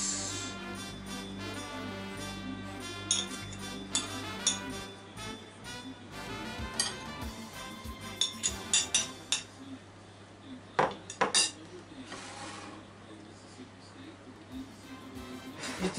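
Dishes and cutlery clink repeatedly as broiled saury with Komatsuna and onion is served over steamed rice, the sharp taps and scrapes scattered through the clip over a steady low background hum.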